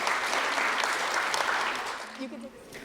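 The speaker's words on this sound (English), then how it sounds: "let's once again put a round of applause for our 13 to 15 finalists" Audience applause at a youth speech competition final for the 13 to 15 age finalists, a steady wash of many clapping hands that tapers near the end as a voice begins speaking.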